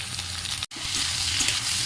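Cauliflower sizzling in a pan with tomatoes, curry leaves and green chillies, a steady close frying hiss broken by one brief silent gap.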